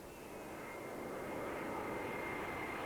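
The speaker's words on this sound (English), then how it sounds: "roar of airplanes" Airplane engines roar steadily and continuously, swelling slightly louder over the few seconds with no voices or other sounds.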